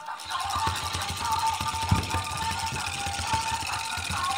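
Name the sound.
vibrating musical toy ball bouncing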